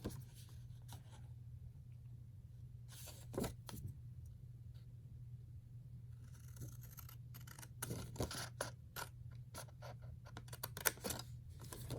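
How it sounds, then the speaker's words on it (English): Scissors cut paper for a ring-bound journal: scattered close snips and rustling cuts, some in quick bursts, over a low steady hum, with no voices. "I'm just cutting this off. I'm going to cut it off straight"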